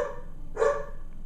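A single short dog bark sounds at moderate distance in an indoor room, a quick yip against quiet background, with no talking.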